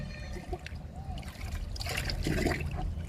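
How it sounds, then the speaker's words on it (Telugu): Liquid fertilizer trickles and splashes from a container into the soil of a potted plant. The pour is close and steady and builds slightly in volume toward the end, with no talking. "ఈ మొక్కకు కూడా లిక్విడ్ ఇస్తున్నాను"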